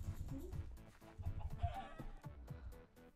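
Chickens cluck in a video game where the player hunts them, with short fowl calls scattered over game sounds and music at low volume.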